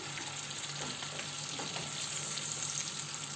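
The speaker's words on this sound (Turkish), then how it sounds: "Biraz yağda pişmesini isteyeceğim" Pepper paste sizzling in hot oil in a pan while cooking arabası soup, a steady close frying crackle with fine popping throughout and no voices.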